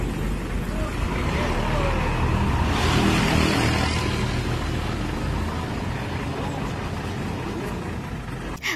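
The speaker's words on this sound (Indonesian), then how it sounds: "Wow, keren banget ya teman-teman truk Pertamaxnya." Pertamina Pertamax fuel tanker truck passing nearby, a loud, steady broadband road roar with a swell partway through before easing off.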